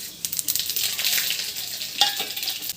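Panch phoron spices tossed into a hot kadai for a vegetarian curry, sizzling in a steady bright hiss with a few soft clinks and a sharper crackle near the end.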